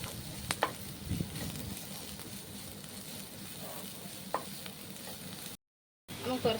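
Shallots and onion sauté with salt in a pan for a karimeen curry, giving a low continuous sizzle with occasional spatula scrapes, fairly quiet, and cutting to a short silence near the end.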